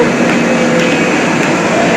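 A train pulls out of Manmad Junction bound for Mumbai, heard from the platform as a dense, loud, steady rumble and hiss of rolling carriages, close and continuous, with no voices.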